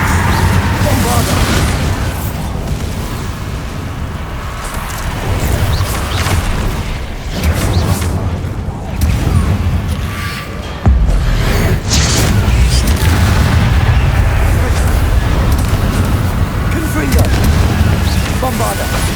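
Bombarda explosion spells in Hogwarts Legacy make a dense, loud run of booming blasts, one rolling into the next, with a sharper surge partway through.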